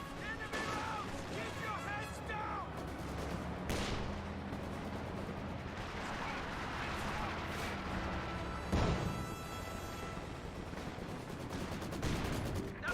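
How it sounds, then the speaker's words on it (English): Maxim machine gun firing in the Company of Heroes 2 battle game, rapid bursts and booming battle noise layered through a busy mix, with someone talking over the combat much of the time. "Maxim firing away for maximum firepower"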